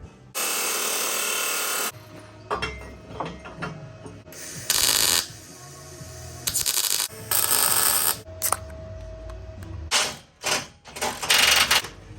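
Welding on a homemade high-clearance rear bumper for a Toyota Tacoma: loud, crackling hissy bursts of a few seconds each, separated by quieter shop noise and short mechanical clanks.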